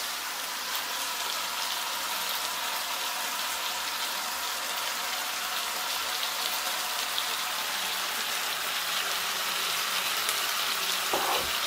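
Onions and tomatoes with tomato paste frying in a pan for a Guadeloupean riz djon djon, a steady bright sizzle and crackle that stays even and close with no talking.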